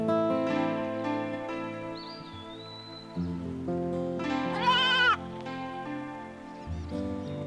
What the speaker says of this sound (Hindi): वो बकरी का बच्चा है ना